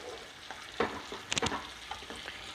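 Chicken drumsticks and onions tossed in a hot pan, a quiet sizzle under soft scraping stirs with a few sharper clinks of the spoon, close by, no speech.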